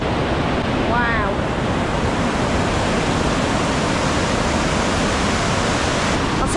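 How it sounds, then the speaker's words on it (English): Aysgarth Falls in full flow thunders in a loud, unbroken roar of rushing water from a river running very full. The sound stays steady and close throughout, with a brief faint whistle near the start. "one final waterfall for you"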